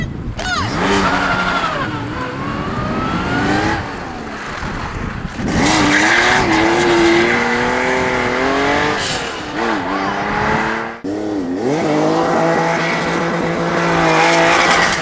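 A Porsche 911 with a manual gearbox performs a J-turn on a track day, spinning from reverse into first. The engine revs loudly with rising and falling pitch while the tires squeal and skid almost continuously.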